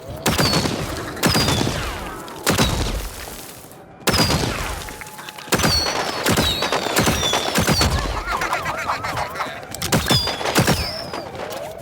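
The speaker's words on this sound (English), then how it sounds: "Sort of fireworks inspired. So he has this little double shot." Rapid bursts of cartoonish firework-style double shots from the pylon imp in Plants vs Zombies Garden Warfare 2, about eight loud popping blasts in quick pairs with sparkling whistles and mechanical reload clicks between them.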